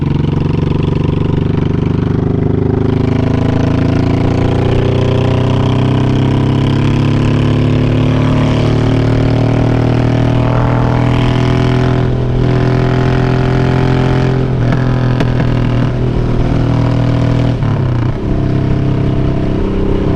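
A Honda Shadow motorcycle engine rumbles loud and close at idle, its deep steady throb rising and falling as the throttle is blipped and the revs climb, with no talk over it.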